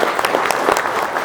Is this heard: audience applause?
yes